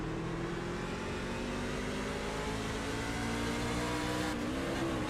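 A NASCAR truck engine drones steadily at high revs from an onboard camera during a race, loud and continuous, with a brief pitch dip near the end as the gear changes.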